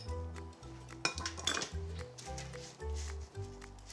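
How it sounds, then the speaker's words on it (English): Kasha coated in maple syrup is stirred and spread onto a parchment-lined baking tray: soft scraping and clinks of utensil against bowl and pan, a few sharper knocks, over a low steady hum, with no talking. "you just want to stir the kasha to make sure it's coated and spread it onto a parchment-lined baking tray"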